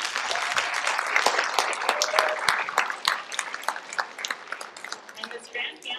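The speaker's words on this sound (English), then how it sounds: "Let's give a round of applause to Mrs." A school back-to-school event audience applauding a pianist, dense clapping from many hands that is loud and continuous, thinning slightly toward the end, with some voices mixed in.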